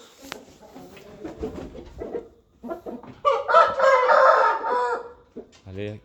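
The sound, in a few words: rooster and hens clucking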